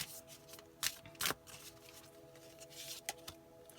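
Tarot cards shuffled and dealt by hand: soft rustles and sharp card slaps, a few crisp snaps standing out, close and fairly quiet over faint background hum.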